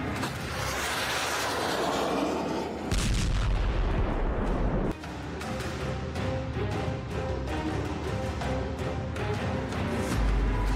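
Heavy explosions from Russian shelling in Kharkiv: loud, continuous rumbling blasts and booms, with sharp bursts and crackling layered over a sustained low roar that persists throughout, and no speech.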